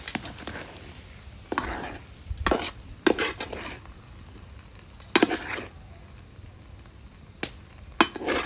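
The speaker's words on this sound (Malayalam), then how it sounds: "ഒന്ന് ഇളക്കി കൊടുക്കാം." Cooked chicken biryani rice stirred in a pot, a series of separate scraping and clacking bursts of the spoon against the pot, close and moderately loud, with no talking.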